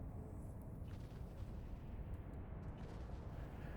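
Weapon fire in the EVE Online space game, a dense, steady roar of continuous booming shots with no clear gaps, loud and sustained throughout.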